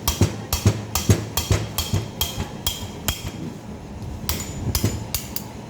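Sharp metallic slide hammer strikes, roughly a dozen at an uneven rhythm, pull on a seized, dry part of an oil-starved 14D engine, each impact ringing briefly and close.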